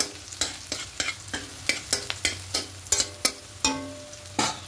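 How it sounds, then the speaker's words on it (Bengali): Onions frying until browned for chicken biryani sizzle in a pan while a utensil strikes and scrapes it in a run of sharp, close, irregular clacks. "পেঁয়াজটা লাল করে ভাজা হয়ে গেছে, দেখুন পেঁয়াজ বেরেস্তাটা একদম হয়ে গেছে।"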